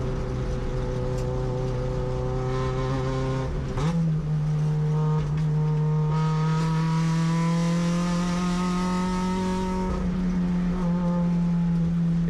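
Acura RSX race car engine under load during a USTCC touring car race, a loud, steady tonal drone with a pitch climb near four seconds and another dip around ten, continuous throughout with no talk.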